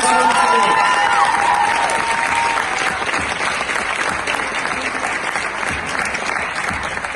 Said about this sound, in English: Please give a big round of applause to all the teachers, staff, and leaders in this room today.